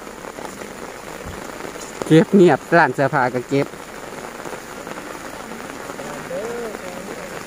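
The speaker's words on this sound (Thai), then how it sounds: "พี่น้องเอ้ยฝนตกจักๆ" Heavy rain pours steadily on an outdoor market with banana-leaf covers, a constant hiss throughout, while someone talks over it in a short burst of speech.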